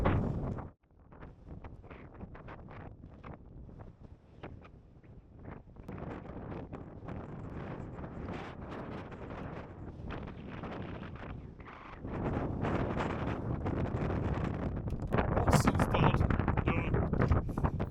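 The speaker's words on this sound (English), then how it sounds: "The wind is going to be a problem today, all the way along this Helvellyn ridge." Strong wind on the Helvellyn ridge in England's Lake District buffets the microphone in a constant roar that swells and grows louder toward the end, with no talking heard.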